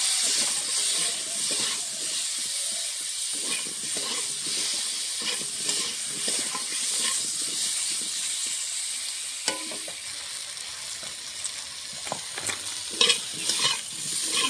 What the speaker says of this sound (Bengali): দিয়ে দিলে পরিমাণ মতন হলুদ গুঁড়ো, স্বাদ মতো নুন দিয়ে আলুটা ভালো করে ভেজে নিতে হবে।